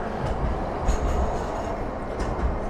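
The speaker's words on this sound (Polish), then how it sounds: "Zaraz tramwaj mnie zagłuszy." A tram rumbles past on Kraków's oldest standard-gauge tram route with a steady low roar and faint rail clatter, fairly close, with no voices.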